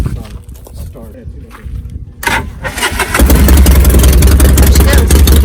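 An old vehicle engine cranks after a brief pause, catches and settles into a loud, steady, rumbling idle close by, with some voice heard before it starts.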